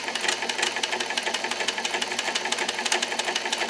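A Singer 237 sewing machine runs steadily while stitching a zigzag, its rapid needle clatter and motor hum continuous and close throughout.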